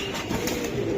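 A Giribaz pigeon coos briefly in a low, throaty murmur, close by over a steady background hum.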